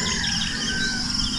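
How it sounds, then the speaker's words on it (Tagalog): Birdsong fills an open, elevated outdoor spot, with a steady layer of chirps and calls over low background noise and no voices. "mga huni ng ibon."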